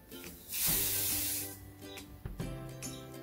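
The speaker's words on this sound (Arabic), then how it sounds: "هذا بخاخ معطر للجسم." A body fragrance spray with an oud scent gives one steady aerosol hiss lasting about a second, close to the microphone, over faint background music.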